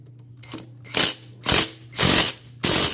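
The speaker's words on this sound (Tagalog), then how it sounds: "Ang gagamitin ko po rito ay ang impact wrench" An impact wrench removes stuck screws from a Mio Sporty scooter, firing four or five short, loud, hammering bursts in quick succession, each about a third of a second long, close by over a low hum.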